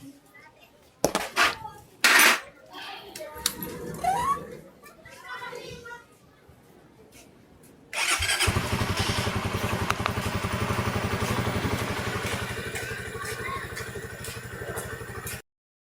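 A Suzuki Raider 150 Fi motorcycle, just fitted with a new fuel filter, starts abruptly after some clattering and voices, then idles steadily and loudly up close for several seconds alone.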